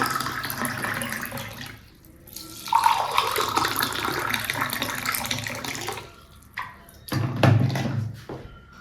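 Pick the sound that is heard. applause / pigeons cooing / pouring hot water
pouring hot water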